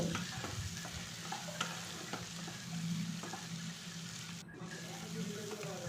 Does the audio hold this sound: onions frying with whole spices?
yes